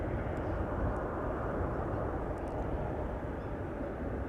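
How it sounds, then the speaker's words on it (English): A Chinese Boeing 777 airliner at Amsterdam Schiphol Airport, a steady broad jet engine roar that stays constant and fairly loud throughout, with no voices. "I think there's a Chinese triple going to be crossing the runway any moment now."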